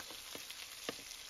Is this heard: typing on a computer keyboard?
no